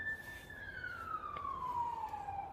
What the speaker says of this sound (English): You hear the sirens, man.